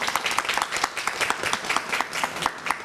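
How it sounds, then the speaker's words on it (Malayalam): Studio audience on a comedy game show claps in sustained, dense applause throughout, loud and steady with no talk over it. "മൈജി തരുന്ന ഒരു കിടിലൻ സമ്മാനം കൈയടിയോടുകൂടി നമുക്ക് രഹനയ്ക്ക് കൈമാറാം."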